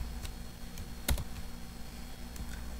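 Quiet, close clicks of keys being typed on a computer keyboard, a few scattered strokes with one sharper tap in the middle, alone with no talking.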